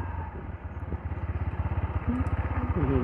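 A TVS Apache RTR 160 4V motorcycle engine with a power-loss problem thrums with a rapid, pulsing beat that builds as the bike rides along, loud and close.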